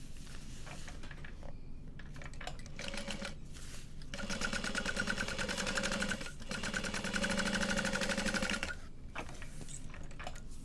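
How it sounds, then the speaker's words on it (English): A sewing machine top stitches a seam on a bowler bag, with short bursts of rapid mechanical stitching broken by pauses and one longer steady run in the middle. "I'm gonna top stitch through that."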